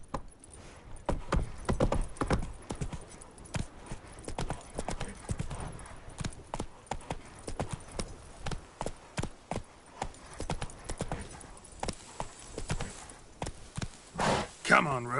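Galloping hooves of a horse in The Witcher 3: Wild Hunt beat out a steady, rapid clip-clop throughout, with brief voices now and then over the rhythm.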